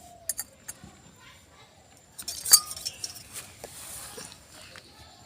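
A spoon clinks against a pot while ginger-cumin paste is stirred into a quail egg curry, with a few sharp metallic taps among soft background noise and faint voices.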